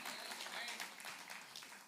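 A church congregation applauding at an evangelist's service, a dense steady patter of many hands filling the space, with faint voices mixed in.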